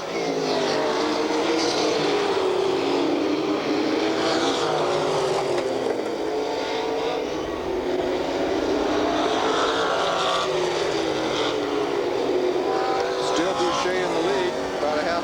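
Race cars lapping at Redwood Empire Raceway (Ukiah Speedway) in 1985 roar continuously, engines droning and shifting in pitch as they pass, with a commentator talking over the noise throughout.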